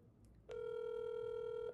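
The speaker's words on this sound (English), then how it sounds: "You see, it's ringing." A WhatsApp call rings out: one steady electronic ring tone with a clear pitch and bright overtones starts abruptly after a short quiet pause and holds evenly for over a second before cutting off.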